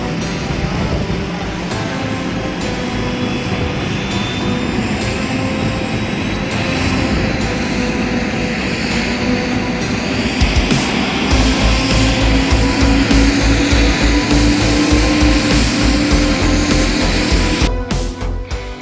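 A six-rotor agricultural spraying drone takes off, its dense, loud rotor whine and roar steady throughout and swelling stronger partway through as it lifts.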